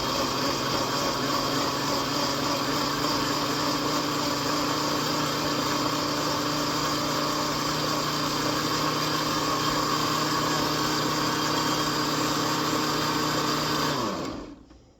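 A blender runs on low, blending a spinach green smoothie. It gives a loud, steady motor whir that holds evenly and then winds down and stops at the very end.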